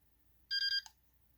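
Once switched back on, a signal light bar controller sounds a brief electronic beep, a steady tone of about a third of a second with a small click right after it, close up in a quiet room.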